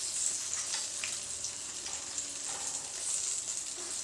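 Stuffed tinda (round gourds) fry in hot oil with a soft, steady sizzle and faint crackles, fairly quiet and close, with no one talking.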